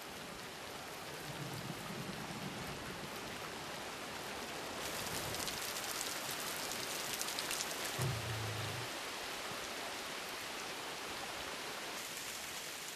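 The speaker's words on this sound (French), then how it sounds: "Les pluies de novembre annoncent la fin de la saison sèche." November rain falls steadily on Maasai land in a dense, even hiss of drops across open country, swelling heavier in the middle, with a faint low rumble now and then and no voices.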